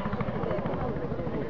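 A helicopter flies over a WRC Rally Argentina 2011 stage, its steady rotor chop loud and close, with faint voices underneath.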